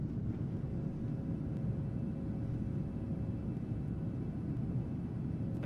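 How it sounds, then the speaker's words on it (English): Boeing 737 engines in Microsoft Flight Simulator, a steady low rumbling drone with a faint high whine, constant and unbroken with no talk. "737 sounds are incredible"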